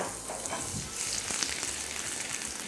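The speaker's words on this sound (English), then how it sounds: "All of the garlic at once into the pan." Chopped garlic frying in olive oil in a pan for arrabbiata sauce, a steady close sizzle and crackle with no talking.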